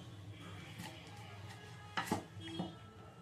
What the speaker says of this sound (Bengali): স্কোয়াশটা দুফালি করে কেটে নেব।